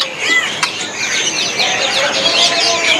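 Dense chirping and calling from many caged birds at the Pramuka bird market in Jakarta, including clucking fowl, loud and close in a steady overlapping chorus, with a sharp click near the start.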